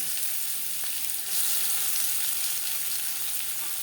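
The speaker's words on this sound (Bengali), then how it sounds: "কড়াইতে আবারও তেল দিয়েছি, দিয়ে দিলাম পেঁয়াজ কুচি" Chopped onion fries in oil in a wok that was used to fry fish, with a bright continuous sizzle held at an even level and a brief rise partway through. Nobody speaks.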